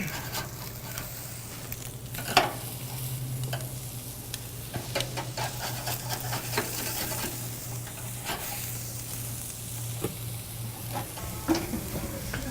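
Pork chops sizzle on a grill just after being flipped, a steady close frying hiss with scattered pops and crackles and a constant low hum beneath.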